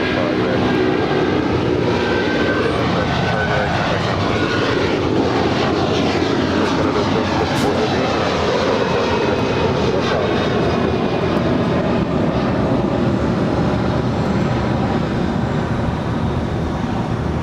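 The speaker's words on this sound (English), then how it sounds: "That was Air Canada flight 774 heading to Montreal." An Air Canada Airbus A330-300 departing LAX, bound for Montreal, gives off a loud, steady jet engine roar that runs the whole stretch without a break and holds its level throughout, with no voices.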